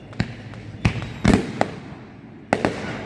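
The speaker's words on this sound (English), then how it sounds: "Whoa! Triple explosion! Quadruple! Quintuple!" Fireworks burst in a string of sharp booms, a few quick pops spaced across the moment with two louder cracks near the middle and another pair toward the end, each ringing out over a low outdoor rumble.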